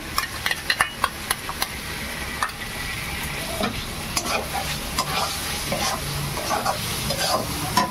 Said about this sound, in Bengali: এই 2 চামচ টক দই, নিজের ঘরে পাতা টক দই দিয়ে দিচ্ছি